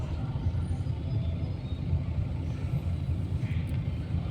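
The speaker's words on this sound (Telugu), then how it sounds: "Traffic jam." Steady low rumble of cars and other vehicles idling and creeping along in a road traffic jam, a continuous even drone heard from inside the stream of traffic with no distinct passes.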